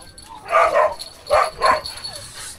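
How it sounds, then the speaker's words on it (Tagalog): Several dogs bark and yip in two quick pairs of sharp barks, close by, with a faint whimper trailing after. "Tignan nyo guys, ang dami ng mga aso."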